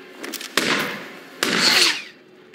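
Gunfire in Hitman 2: a few light pops, then two loud, sharp bangs about a second apart, each with a ringing, echoing tail that fades out.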